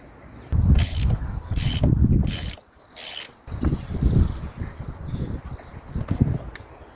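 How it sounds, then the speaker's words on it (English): A big 36mm socket on a ratchet works the top off the oil filter housing of an old Land Rover barn find, with bursts of ratcheting clicks and metallic handling noises close by, pausing briefly between strokes. "This is a big old 36mm socket. To get the top off that."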